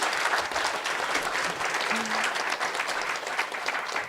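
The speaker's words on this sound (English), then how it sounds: "I want you to give a huge and loud round of applause for yourselves" The audience at the Women in Tech Hackathon 2024 finals claps loudly for themselves, a steady, full round of applause that holds its level from start to finish, with a brief voice faintly underneath.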